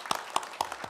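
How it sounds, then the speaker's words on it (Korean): A few sharp, separate claps from a congregation at a Sunday church service, the brief start of a round of welcoming applause, close and moderately loud. "우리 뜨거운 환영의 박수로"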